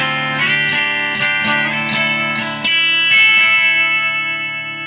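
Electric guitar through a Catalinbread CB 30 amp emulation distortion pedal, with a treble bypass cap on the guitar's volume control, playing strummed chords with a bright, overdriven tone that ring out and sustain, loud and alone.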